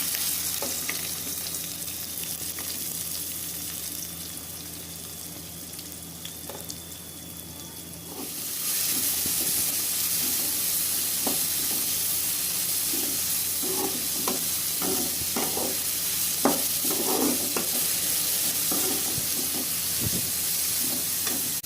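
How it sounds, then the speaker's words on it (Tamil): Onion and curry leaves added to hot oil with popped mustard seeds and urad dal in a pan, a quieter simmer giving way to a louder, sustained sizzle with scattered crackles and stirring clicks. "வானலை வச்சு எண்ணெய் ஊற்றிட்டோம் கடுகு உளுந்து போடுறோம் கடுகு பொரிஞ்சிச்சுங்க ஆனியனும் கருவேப்பிலையும் போடுறேன்"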